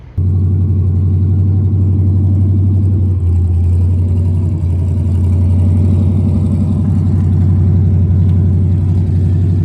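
A loud, rumbling 1967 Dodge Coronet engine with open headers idles steadily with a deep, uneven lope and a raw, unmuffled bark, running continuously close by.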